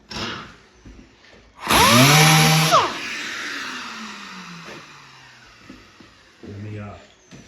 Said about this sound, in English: Let me sand on that scratch area real quick here